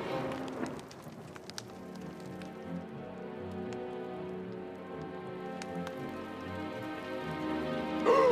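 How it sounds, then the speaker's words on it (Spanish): Heavy cartoon rain pours down in a steady, dense hiss of drops striking surfaces, loud and continuous with no voices. "¡Llueve a cántaros!"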